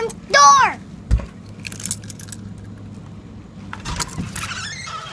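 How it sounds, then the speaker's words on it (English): A set of car keys jingles in a few bright metallic bursts, clustered near the end, alongside a short squeal and a low thump in a quiet room. "K. Keys."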